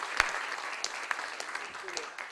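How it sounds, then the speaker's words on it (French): A scattered, fairly faint round of clapping from an audience at an evening Quran-reading event at the Institut Français in Casablanca, with sparse individual claps. "Je vous demande de les applaudir."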